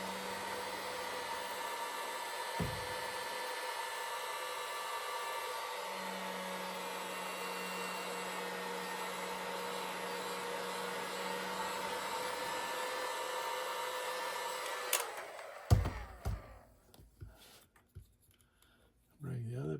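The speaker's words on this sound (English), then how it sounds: "get the heat gun out." A heat gun blowing hot air on heat-shrink tubing during a pool speaker repair, a steady, fairly quiet whooshing hiss that holds for about fifteen seconds, then cuts out with a few clicks and handling noises.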